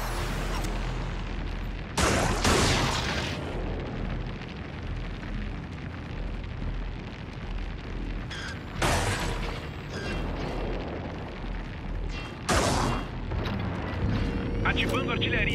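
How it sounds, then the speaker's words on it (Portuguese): Artillery strikes in the video game HellDivers boom out in several loud, broadband bursts at intervals over a constant rumble of battle, with a voice speaking between blasts. "Ativando artilharia."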